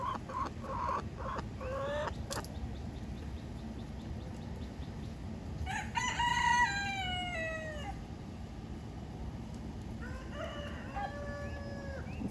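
A backyard rooster crows twice among hens, first a drawn-out crow around the middle and then a second one near the end, moderately close over a constant low hum and soft clucking.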